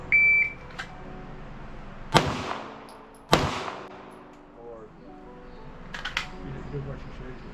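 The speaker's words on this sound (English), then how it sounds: "I'm gonna shoot six shots" Gunshots fired at steel plates on an outdoor training range, two sharp loud reports about a second apart with ringing decay, followed by fainter distant impacts and a couple of softer shots later.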